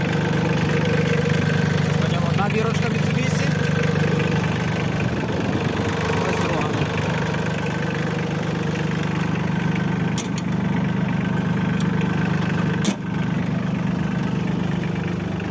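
A tractor's Mitsubishi engine idles steadily with a low, even rumble throughout, while someone talks over it.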